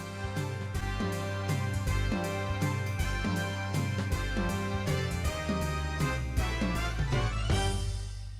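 A keyboard's built-in Wonderful Waltz song setup plays its introduction, with steady waltz accompaniment, bass and chords over a full arrangement. It is loud and continuous, with no talking.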